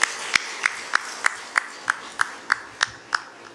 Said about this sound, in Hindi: तालियां भी अच्छी बजाइए।